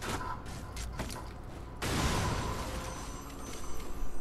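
Bombs explode in the Lara Croft: GoL video game. A quieter stretch of sharp mechanical clicks gives way to a sudden loud blast and a sustained rumbling roar that swells again near the end.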